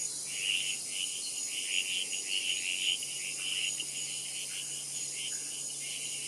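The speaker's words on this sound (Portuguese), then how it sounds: "As rãs de olhos vermelhos cantam escondidas entre a vegetação." Red-eyed tree frogs call from hidden spots in Caribbean vegetation: a steady, fast-pulsing chatter of calls repeating in uneven bursts over a constant high-pitched hum, with no voices.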